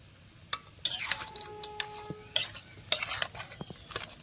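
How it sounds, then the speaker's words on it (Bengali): Fried spice mixture with peanuts and salt being stirred in a pan for aloo chop filling, with quick scraping and clinking strokes of a spoon over a light sizzle, close and without talk. "আবার ভালো করে সব মিশিয়ে নেব"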